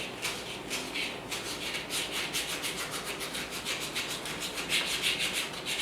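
A scuff pad taped to the rounded end of a wooden dowel scrubs an engine surface while it is being prepped for paint, giving a steady, close, continuous abrasive rubbing with rhythmic strokes throughout and no talking.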